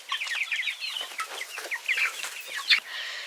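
Several chickens let outdoors cluck and chatter near the microphone in quick, irregular bursts, with one sharper, louder squawk near the end and no voices.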